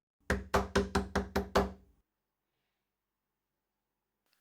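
Six firm, evenly spaced knocks on a door land in quick succession, close and loud, followed by silence and a brief sound at the very end.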